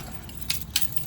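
Keys jangle in two short, bright metallic bursts a moment apart, close and fairly quiet, over a steady low room hum with no talking.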